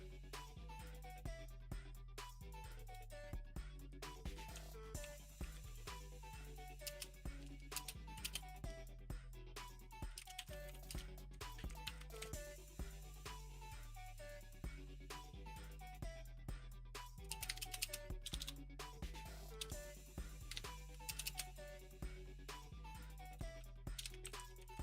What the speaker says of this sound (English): You guys will have to deal with my clicky clacks for just a minute.